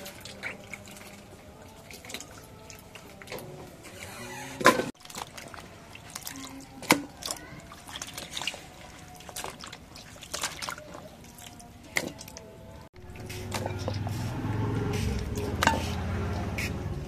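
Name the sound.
water while washing fish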